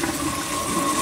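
Water pours steadily into a fish tank fitted with a pump and a catfish tower, a continuous broadband rushing and gurgling that stays close and even throughout, with no voices over it.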